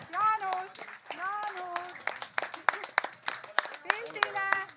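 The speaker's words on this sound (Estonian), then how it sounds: "Ja aplausud jätkuda" At a closing event for school pupils from grades 5 to 12, held at the Telia headquarters, scattered hand claps ring out. Sparse, uneven claps build into a quicker patter while children's voices talk throughout.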